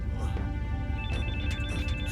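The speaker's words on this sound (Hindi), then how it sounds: "फोन उठाओ।" A telephone rings in a dubbed action heist film, with short repeated electronic ring pulses starting about halfway through, laid over a dense, loud film soundtrack and voices.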